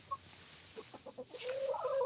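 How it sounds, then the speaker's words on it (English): Backyard hens make a few short, soft clucks in quick succession, then a louder, drawn-out squawking call, close by and with no one talking. "I have the hens."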